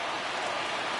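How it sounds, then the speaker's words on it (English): Rain falls steadily on a baseball field in a video game, a continuous even hiss of drops with no pauses, moderately faint and without talk. "I don't know how much more rain this field can take"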